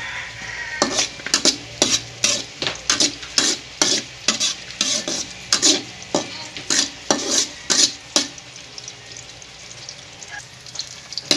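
Onions being stirred and frying in a pan for snail adobo: a spoon scrapes and knocks against the pan in a steady rhythm of strokes over a soft sizzle, close and fairly loud.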